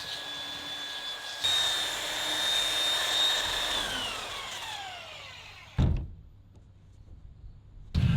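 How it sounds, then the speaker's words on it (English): A belt sander whines steadily while rounding plywood corners on a travel trailer roof, then spins down with a falling pitch, followed by a thump and quieter room noise. "So I took my belt sander and kind of sanded those and smoothed those out."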